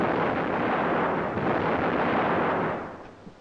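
Supporting fire from a Swiss army exercise in 1972: a dense, continuous roar of gunfire and artillery that stays loud and broadband for about three seconds before trailing off.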